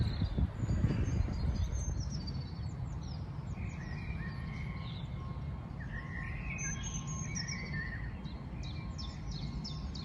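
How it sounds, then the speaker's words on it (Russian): Birds chirp and sing outdoors on a sunny day in a city full of blossoming plants, their calls scattered and fairly distant over a steady low rumble of background noise, with faint insect-like buzzing. "сижу, слушаю, как поют птички и греюсь на солнышке."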